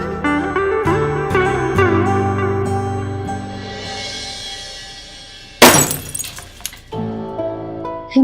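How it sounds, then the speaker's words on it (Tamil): A glass bottle shatters suddenly, one sharp loud crash with scattering shards. It follows a stretch of steady tonal sound and is trailed by brief clinks as the pieces settle. "என்னக்கா பாட்டிலுக்கு போல உடைஞ்சிருச்சு"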